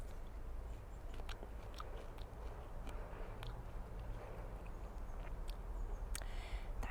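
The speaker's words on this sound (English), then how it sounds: "You're just going to have to listen to me munching now" Crisp bites and steady chewing of a raw white wonder cucumber, close to the mic, with sharp crunches scattered over several seconds against a low background rumble.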